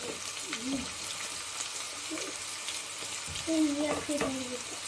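Onion frying with ginger-garlic paste in a pan for shahi aloo palak. A soft, close sizzle runs throughout, with scraping stirs and a louder burst of frying toward the end.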